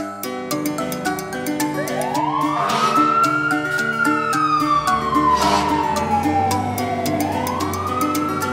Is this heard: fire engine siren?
yes